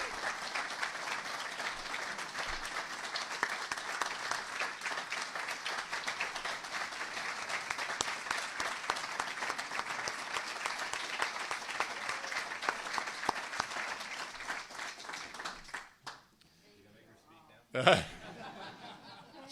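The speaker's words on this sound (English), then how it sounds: "Could we have a nice round of applause for the one and only Jess Davis?" An audience at a chamber of commerce breakfast meeting gives a steady round of applause with scattered chuckles, lasting about fifteen seconds before fading out, followed by a brief burst of nearby talk.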